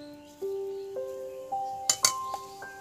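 A metal spoon clinks against a pan or bowl as a spoonful of cumin seeds is added for jeera aloo, several bright ringing taps close by in a quiet kitchen, no talking.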